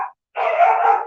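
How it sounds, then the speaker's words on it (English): Dogs barking outside a room during an online meeting, heard as a short clipped bark followed by a longer, steady, moderately loud bark or howl. "You can hear the dogs outside."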